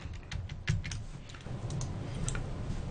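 Quiet, close keystrokes on a computer keyboard as a search term is entered, a quick irregular run of soft clicks over faint room hiss.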